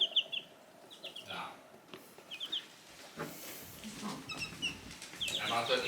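Chickens cluck and squawk in short, scattered bursts at close range, mixed with rustling and handling noises and some background voices.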